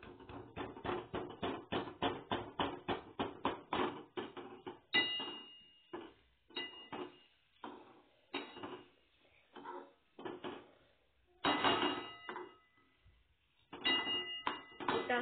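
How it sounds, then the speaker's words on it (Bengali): Jaggery is stirred in a pan as it melts for patishapta. Fast, regular metallic scraping strokes come first, then slower, irregular scrapes and clinks, all close and without any voice. "এরপর এটাকে নাড়তে হবে ভালো করে মিশিয়ে। গুড়টা একটু গলবে,"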